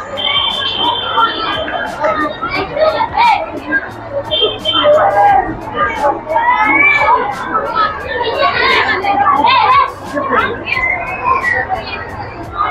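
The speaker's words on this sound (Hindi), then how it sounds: "यहाँ पे भीड़भाड़ का भीड़ ये है सीता वाटिका सीताकुंड में, और यहाँ पे काफी भीड़ है आज देख रहे हैं हम" Crowd of visitors at Sita Kund in Gaya, a continuous babble of many overlapping voices with children's shouts, close and lively, and one voice talking over the hubbub.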